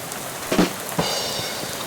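Rain falling in the game Shadows Over Loathing, a steady soft patter of drops on a surface with a couple of brief louder splashes, no voices.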